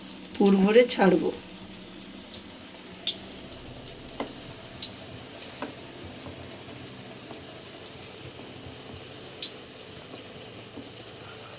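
Dried fish fritters (shutki pakoda) fry in a little oil in a pan, giving faint, sparse crackles and pops over a quiet background after a short burst of voice at the start.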